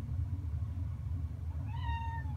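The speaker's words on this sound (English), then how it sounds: "oh, my cat wants to come in." A cat meows once outside a door, a short rising call heard at moderate distance over a steady low room hum.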